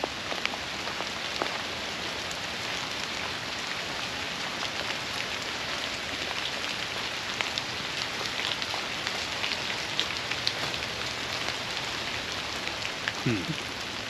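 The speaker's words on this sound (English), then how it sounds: "this rain is definitely coming down pretty heavy" Heavy rain pours down steadily outdoors near ruins with thunder in the area, a dense continuous hiss with scattered drop impacts throughout, close and fairly loud.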